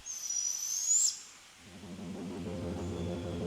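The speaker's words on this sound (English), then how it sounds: "This call, which sounds like a mix of a hiss and a screech, is a way for the juvenile owls to communicate." A juvenile barred owl gives a loud, close hiss-screech call lasting about a second, a harsh rising shriek, then fades into quieter low background noise.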